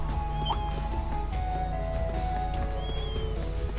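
Within the game Trails of Cold Steel 2, a cat meows a few brief times along a countryside road near a bridge, over looping game music and ambient background sound.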